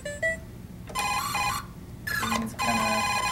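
Homemade DIY speaker circuit producing electronic tones, its pitch changed by a body acting as the resistor; short bright beeping bursts with gaps between, quiet and close, with no talk.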